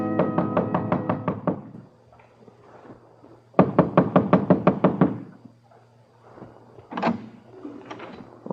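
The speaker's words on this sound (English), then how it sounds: "Only certain kinds of people knock like that." Bursts of rapid, hard knocking hit a door up close, two long rattling volleys separated by quieter shuffling, then a shorter sharp knock near the end.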